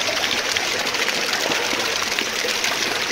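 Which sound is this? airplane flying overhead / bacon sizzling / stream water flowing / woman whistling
stream water flowing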